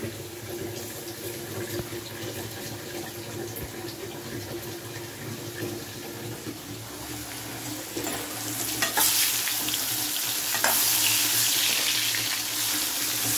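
Vegetables frying in a pan with a dense, continuous sizzle heard close up, growing louder and harsher toward the end, with running water audible in the mix.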